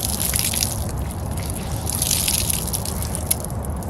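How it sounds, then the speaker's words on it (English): Water sprays and hisses from a leak at the back of an RV, the first time it has been turned on after de-winterizing, a steady close rushing spray with small splashes and no talking. "But somehow the water is spraying out from the back of the"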